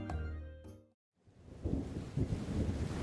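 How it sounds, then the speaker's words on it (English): A sharp crack of thunder in a foraging video game, followed by a dense, rolling rumble that builds and sustains after a brief moment of silence. "You're fast asleep in your tent when a sudden crack of thunder jolts you awake."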